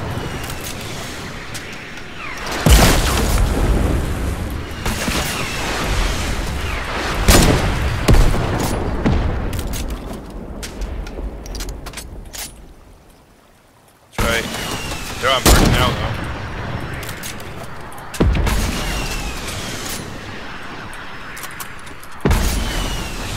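A Fortnite firefight of rocket blasts and gunfire, with loud booming impacts and clustered shot bursts arriving in waves, a brief lull midway, then more heavy explosions and rapid fire.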